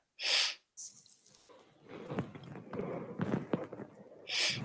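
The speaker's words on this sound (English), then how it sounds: "I was trying to blow my nose really, really quietly." A person blows their nose quietly, giving short muffled blasts of breath and snuffling close to the microphone, with soft sniffs and rustles between them.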